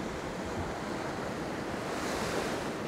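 Rough sea waves churn and roll in a steady, close wash mixed with gusting wind noise against the microphone, during a fishing outing; no voices.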